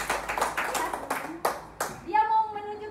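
A small group in a school setting claps in a few distinct, spaced bursts that end after about two seconds, and then a voice takes over with speech.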